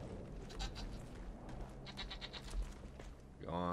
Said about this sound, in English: Gonna have to do something with the goaty goats.